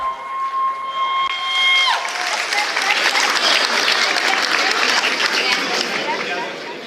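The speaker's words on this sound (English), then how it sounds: "Let's have another round of applause for Rajdeep uncle." An audience applauds in a steady wash of clapping after a tonal chord fades out at the start, continuing at full strength and then tapering slightly.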